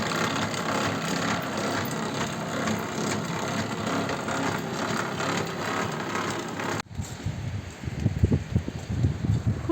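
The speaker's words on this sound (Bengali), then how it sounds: "পা দিয়ে কনস্ট্যান্ট নাড়িয়ে যাচ্ছেন চাকাটা ঘুরছে আর এইভাবে হাতে উল তৈরি হচ্ছে" Foot-operated wooden spinning wheel turning as wool is spun by hand in a Himalayan village, a continuous rubbing, whirring wooden rattle that cuts off abruptly, followed by quieter scattered knocks and handling noises.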